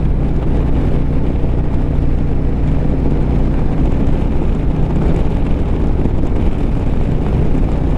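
Harley-Davidson Road Glide bagger motorcycle on the road, a steady loud engine drone mixed with heavy rushing wind buffeting the microphone, continuous and unbroken throughout.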